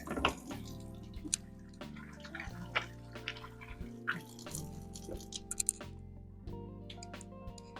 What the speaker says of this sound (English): I'm gonna go ahead and wash my hands real quick